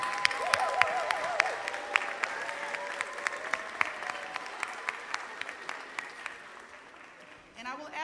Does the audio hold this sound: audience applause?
yes